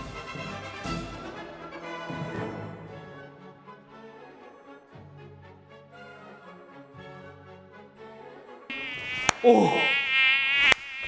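A mosquito's thin, high whine drones steadily and fairly loud on its own for several seconds, ending with a few sharp, close knocks and a brighter, louder burst of buzzing.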